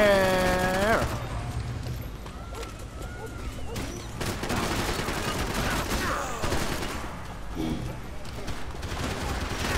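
Bursts of gunfire in the Max Payne 3 shooter game, overlapping volleys at moderate distance with a game music swell at the start and continuous battle din.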